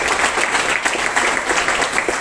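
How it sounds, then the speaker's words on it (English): An audience applauds at a school student council investiture ceremony, with dense, steady clapping throughout. "So I think a big round of applause for the election."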